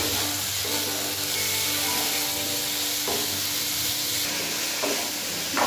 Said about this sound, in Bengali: এবার এগুলোকে ভালো করে আমি ভেজে নেব।